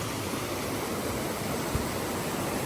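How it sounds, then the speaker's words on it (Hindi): A secret waterfall near Rishikesh: an even, continuous rush of falling water filling the scene, steady and fairly loud without pauses, with no voices. "यहाँ से मेन वाटरफॉल शुरू होता है"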